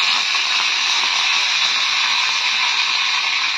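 A loud, steady, close-up hiss of mustard seeds, urad dal and curry leaves sizzling in hot oil for tempering, continuous from start to finish without speech.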